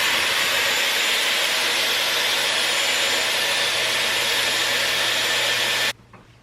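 A Dyson Airwrap hair styler with the smaller barrel attached blows air in a steady, loud, close whooshing hum for about six seconds, then switches off abruptly.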